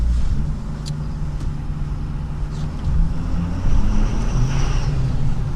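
A 6.7-liter turbo diesel V8 truck engine rumbles at a steady idle, a deep low drone with slight rises in revs, heard from close by.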